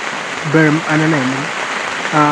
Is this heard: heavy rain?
yes